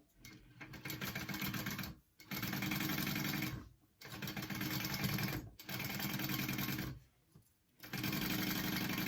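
A sewing machine top stitches fabric in four loud, close bursts of rapid mechanical whirring, separated by brief pauses.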